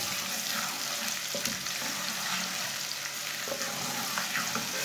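Crushed garlic frying with lightly browned onion in a pan for an aloo matar curry, a steady close sizzle with faint stirring clicks throughout and no talking.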